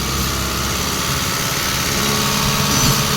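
A modified Challenger pump engine, tuned past 55 hp, running hard at high speed with a dense, steady, loud mechanical roar and vibration.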